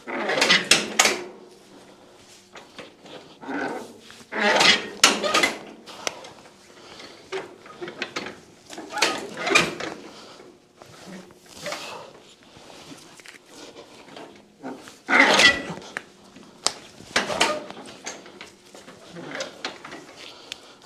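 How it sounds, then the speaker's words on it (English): A 1938 Case RC tractor is cranked by hand, giving irregular bursts of metallic clanking and ratcheting, loud and close, separated by short pauses. "This hand crank is not ideal."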